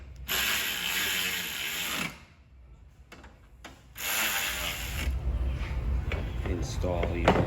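A ratchet tightens bolts on a Toyota Sienna radiator fan assembly, giving long runs of close, fast clicking that pause for about two seconds and then resume, with speech partly underneath.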